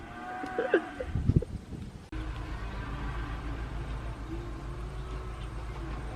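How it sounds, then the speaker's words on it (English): Cattle moo in a field as they are driven toward the next paddock, with a couple of low calls near the start. Steady low rumbling noise then runs under the rest. "there's the cows up there, and granddad's trying to get them to go down there to the next paddock"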